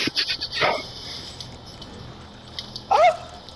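A dog attacking in an online shooter video game, with snarling, yelping bursts near the start and again a few seconds later over faint game ambience.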